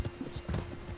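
An Appaloosa horse in Red Dead Redemption 2 walks with soft, irregular hoof clops, faint and partly masked by low background game sound.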